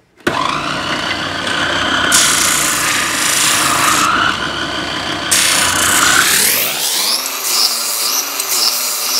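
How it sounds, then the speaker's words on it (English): A power sander grinds the sharp corners off a wooden Scrabble rack, a loud, close, continuous abrasive whir that shifts in pitch as pressure changes, then winds down at the end. "I'm going to take these sharp corners off with my sander."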